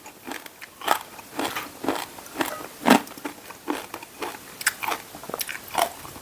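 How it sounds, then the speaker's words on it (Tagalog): Super crunchy pork skin crackling (chicharon) bitten and chewed up close, about a dozen loud, sharp crunches in an uneven rhythm with crackly detail between them, no talk. "Pumuputok. Sobrang lutong."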